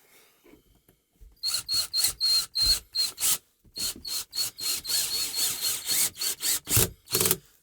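A wall anchor is driven into drywall in bursts of harsh, close, rapid grinding and scraping. Short pauses separate the bursts, and they grow faster and more continuous toward the end.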